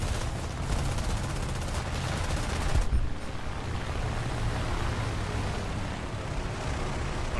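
Rapid machine-gun fire from a Swedish-service Hawker Hurricane carrying British rifle-calibre guns in War Thunder, a dense continuous rattle that keeps going for the whole stretch, loud and close.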